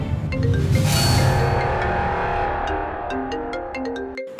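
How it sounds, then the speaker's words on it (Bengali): A mobile phone ringtone plays a bright melodic electronic tune with sustained tones, then a run of short beeping notes, clear and fairly close with no voices. "ওই দেখো, ফড়িংয়ের ফোন"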